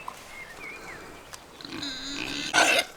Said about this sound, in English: I've got to go because the pigs think it's feed time.